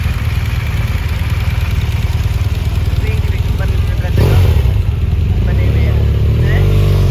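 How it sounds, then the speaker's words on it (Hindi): A motorcycle engine chugs steadily close by at the Lahore polo club, its low throb continuing under someone talking in Hindi, with a brief swell as it passes near the middle. "बड़ी ज़बरदस्त मोटरसाइकिल"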